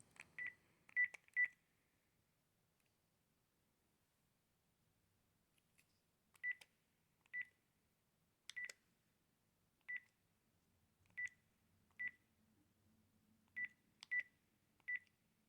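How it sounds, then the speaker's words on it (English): Dialing a number on a landline telephone, a series of about fourteen short DTMF key tones, clustered at first and then spaced out, quiet and clear in a still room with no talking. "Let me just dial the number."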